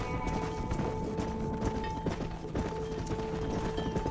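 Horse hooves clip-clop steadily while herding cattle in Red Dead Redemption, a continuous close rhythmic clatter of hoofbeats with faint tack rattles beneath it, no voices over it.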